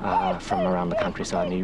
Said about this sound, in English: people can probably hear another little whimper in the background